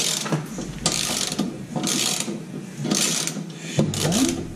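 A ratchet wrench works a bolt on a Honda lawnmower, clicking through several quick bursts of pawl ratcheting between short pauses, close and fairly loud.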